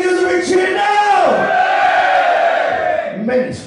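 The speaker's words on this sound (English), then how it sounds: "give us a big cheer now!" A crowd in a bar lets out one loud, sustained roar of cheers and whoops that holds for a few seconds and then tails off into scattered shouts.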